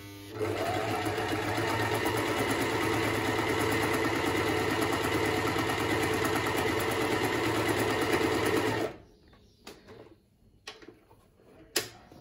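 A Privileg Super Nutzstich 5010 sewing machine runs a straight stitch at length 1, giving a steady, close, rapid mechanical whirring for about eight seconds before it stops, followed by a few scattered clicks and handling noises.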